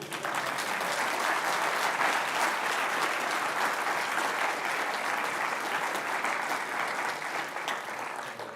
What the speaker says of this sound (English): I think our Vice Chancellor deserves a much stronger clap.